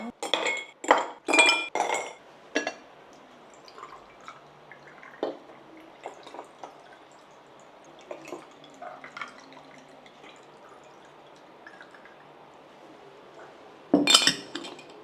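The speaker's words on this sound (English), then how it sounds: "I'm gonna serve them into these beautiful glass with more ice." Turkish sherbet poured into glasses with ice, a quick cluster of glassy clinks and drips at the start, softer scattered taps through the middle, and another sharp clink near the end.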